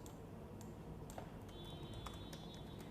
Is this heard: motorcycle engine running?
no